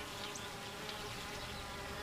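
Honey bees buzz in a dense, steady drone with no pauses, a close swarm-like hum that stays constant and fills the whole stretch.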